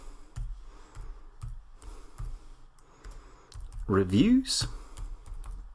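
Sparse key presses on a computer keyboard, a handful of soft clicks spaced apart at close range, followed by a brief spoken word.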